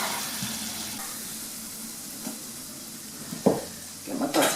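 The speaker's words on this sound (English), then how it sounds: "And give it a stir, it will froth." Cold butter for butterscotch froths in a hot pan, a soft continuous hiss with a few scattered stirring knocks and a brief louder bubbling burst near the end.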